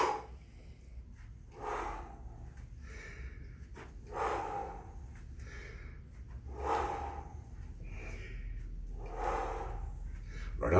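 Slow, deep breaths are taken during a yoga balance exercise, about four or five audible inhales and exhales spaced evenly, close and moderately soft, with no talking.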